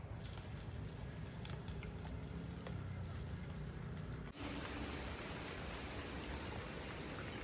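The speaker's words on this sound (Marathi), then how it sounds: "आता पाऊस चालू झालेला आहे" Steady rain pours down outdoors on a hillside where onions are about to be fried over a wood-fired stove, a dense continuous hiss filling the whole stretch with a brief dip partway through, no speech over it.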